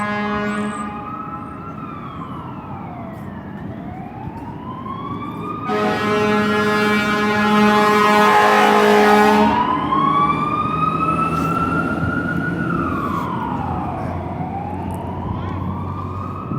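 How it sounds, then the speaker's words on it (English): Emergency vehicle sirens wail loudly, sweeping up and down in long overlapping cycles, with a burst of rapid yelp and heavy truck engine rumble in the middle, nearby and dominant throughout. "sirens."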